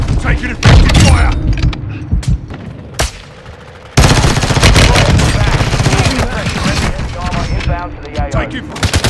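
Heavy gunfire from a military shooter game: dense bursts of automatic fire and booming impacts, loud and nearly continuous with a brief lull, under radio-style voice callouts.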